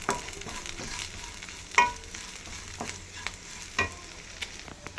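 Masala roasting in a pan for sambar gives a soft, steady sizzle with repeated scraping stir strokes and a couple of sharper utensil clinks, all close and fairly quiet, with no voices.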